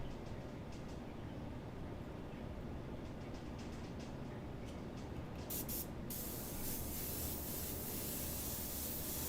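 An airbrush sprays paint in a steady, continuous hiss for the whole stretch, close and even, brightening and getting a little louder near the end.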